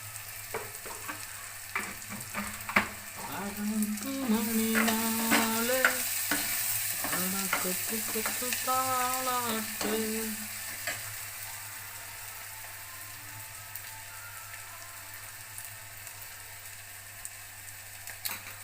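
Onions frying in a clay pot and stirred by spoon, steady sizzling with scraping strokes against the pot, fading to a quieter simmer toward the end, with no voices.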